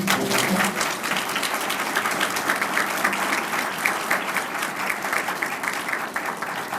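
An audience applauds panelists after an engineering lecture on drones: dense, sustained clapping from a large crowd, even and continuous throughout, with a few faint voices beneath.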